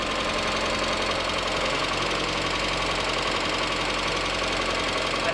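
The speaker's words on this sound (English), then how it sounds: "I guess I'm just not gonna be able to get it to idle down any lower" A Mazda Miata with a swapped-in 1.8 engine and a suspected exhaust leak idles steadily and continuously up close, a constant mechanical drone with a faint knocking texture and no voices.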